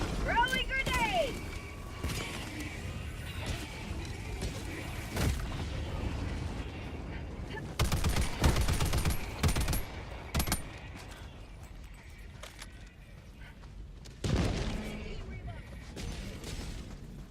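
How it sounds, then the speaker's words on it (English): Grenade thrown in the video game Helldivers, with loud bursts of gunfire and explosions breaking out repeatedly over steady battle noise, under a talking voice. "Throwing grenade."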